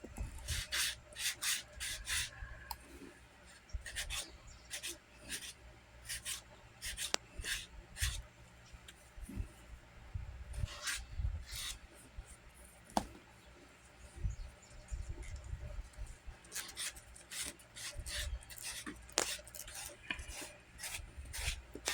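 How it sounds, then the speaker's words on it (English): Gritty, irregular rubbing strokes of a sanding block on a concealed-carry holster, close and fairly quiet, repeating in short bursts with no talking. "The sanding block I'm using, that's another handy item to have."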